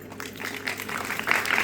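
A crowd at a village performance gathering clapping together, a brisk, dense wash of applause that swells slightly toward the end of a short burst.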